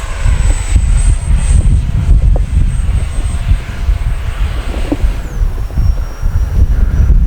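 A Freewing L-15 64mm EDF radio-controlled jet flies at full speed, its ducted fan giving a loud, steady rushing whine that shifts pitch slightly as it passes, with continuous wind noise throughout.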